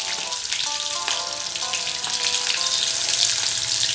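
Onions frying in hot oil give a steady, close, crackling sizzle that grows slightly louder, with a few faint clinks mixed in.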